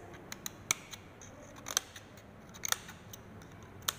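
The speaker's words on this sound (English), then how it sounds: "now I am going to cut it at equal intervals like this from both the sides" Scissors snip through folded paper at even intervals for a roller coaster craft, a handful of sharp, separate clicks spaced irregularly over a quiet room background.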